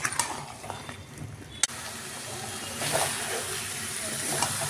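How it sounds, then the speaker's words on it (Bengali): Mutton curry with fried potatoes sizzling and frying in a pan, a steady hiss that swells louder after a sharp clatter partway through, with faint stirring sounds. "সব একসাথে আর একটু সময় ধরে কষবো, যতক্ষণ না মাংস থেকে তেল ছেড়ে যাচ্ছে"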